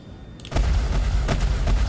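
Spaceship guns fire at a Hornet fighter in Star Citizen, a sudden loud sustained burst of booming shots with a sharper report midway, continuing close and heavy to the end.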